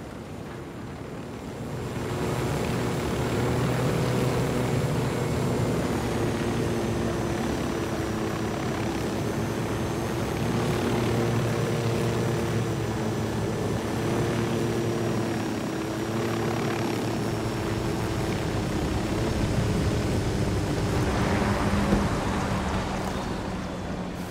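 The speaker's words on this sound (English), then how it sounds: "Drone is airborne." A surveillance drone in a tactical shooter video game lifts off and hovers, a steady whirring rotor drone with a thin high whine that holds for about twenty seconds over a low wind-like rumble, with no voices.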